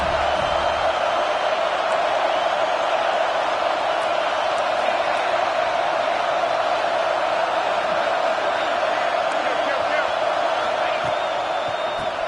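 Stadium crowd roaring steadily for the home defense on a third down at a Georgia at Alabama college football game in a video game, a dense continuous wall of cheering with no letup.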